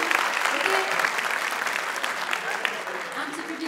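At a French comedy evening, an indoor audience claps loudly and steadily, a dense patter of many hands, while a performer speaks over the applause.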